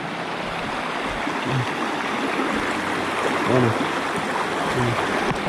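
Water overflows and rushes across a fishpond embankment, giving a steady, loud broadband roar of flowing water close by, with faint voices briefly underneath.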